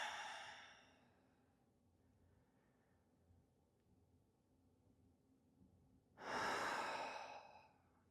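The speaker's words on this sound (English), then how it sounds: "We're breathing through it." Slow, close breaths during a relaxation exercise: one long exhale fades out, a quiet pause of several seconds follows, and then a second full, audible breath comes.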